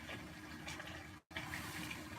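Water runs from a kitchen tap into a sink or container while baking ingredients are being cleared away, a steady near gushing rush that breaks off for a moment and then resumes at full strength.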